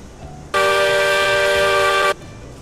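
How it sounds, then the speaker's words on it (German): A single steam locomotive whistle in the railway game Railroads Online, one loud steady tonal blast of about a second and a half that starts and stops abruptly over quiet background. "Pfeife."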